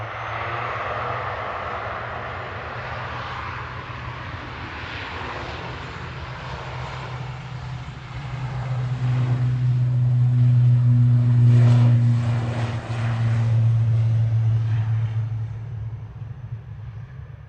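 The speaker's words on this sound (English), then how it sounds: "Lufthansa on approach" A Lufthansa Airbus A319 on approach into Manchester Airport from Munich passes as a steady jet roar, swelling louder in the middle and then easing off, with no voices over it.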